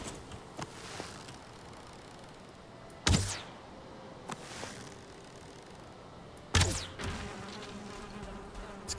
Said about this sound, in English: It's like another bee hive up there.